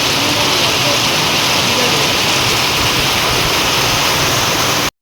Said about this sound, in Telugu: చూడండి ఎంత పెద్ద వర్షం పడుతుందో, ఫుల్ వర్షం, అసలు దంచి కొడుతుంది వాన అయితే